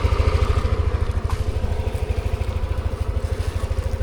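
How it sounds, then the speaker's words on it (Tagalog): A heavy motorcycle idles at a river crossing, its engine pulsing in a fast, even, loud chugging beat close by, with a faint clatter of loose parts over the steady throb. "Mabigat lang talaga ang motor natin."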